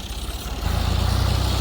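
A heavy tractor engine rumbles nearby, its low, steady chugging growing louder and more regular partway through.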